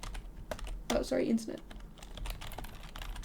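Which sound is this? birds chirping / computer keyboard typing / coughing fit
computer keyboard typing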